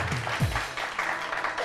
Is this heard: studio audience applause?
yes